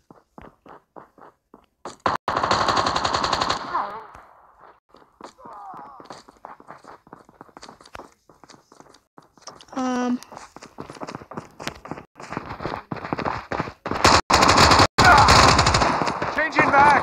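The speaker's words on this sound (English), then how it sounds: "Been shot at." Gunfire in Call of Duty: rapid automatic bursts and single shots rattle through the clip, loud and close, mixed with footsteps, game effects and a voice speaking.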